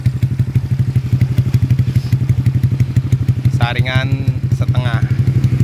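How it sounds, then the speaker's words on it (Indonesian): A Honda Vario 150 scooter with a 59 mm piston and a round CLD Racing C3 exhaust idles loudly close by in a fast, choppy pulse, with someone talking briefly over it. "kita langsung cek sound suara kalau digeber"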